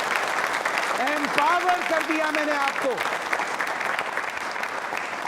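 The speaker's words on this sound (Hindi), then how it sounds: "अब तो तालियां बजा लो रे" Audience applause during a quiz show for trainee state civil services officers fills the room as steady, dense clapping, with a voice speaking over it partway through.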